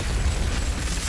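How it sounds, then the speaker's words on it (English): A grenade detonates in the first-person shooter Doom Eternal, a loud, close, rumbling blast that fills the whole moment, with a dense, sustained boom and no voices. "I generally like to use like grenades here."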